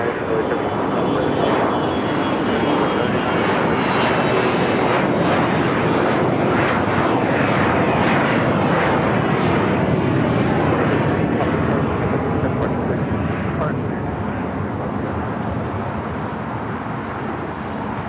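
A Oneworld-liveried American Boeing 787 Dreamliner lands on runway 25R at LAX with a sustained loud jet roar that swells and then gradually fades toward the end.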